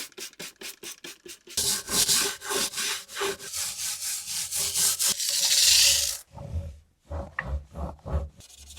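Vintage Les Paul guitar frets are buffed and polished by hand, producing close rhythmic rubbing strokes, first short and quick, then longer sweeping passes with one sustained hiss, quiet overall with no speech.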